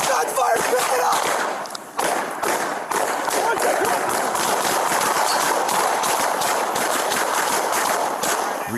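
Rapid bursts of police gunfire crackle continuously amid shouting voices and chaotic noise, a sustained volley of many shots, 96 in total.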